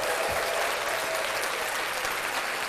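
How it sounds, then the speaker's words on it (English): Steady, even applause fills the whole stretch at a moderate level, a smooth dense texture with no pauses and no talking over it. "Let's clap that up."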